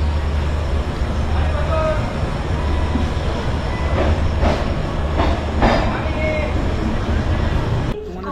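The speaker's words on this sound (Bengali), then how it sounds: "আমাদের খড়গপুর স্টেশন থেকে ট্রেন ছেড়ে দিল।" Shalimar Puri SF Express train leaving Kharagpur station, a steady rumble of rolling coaches heard from inside with a few rattling clanks, loud and continuous until it drops off near the end.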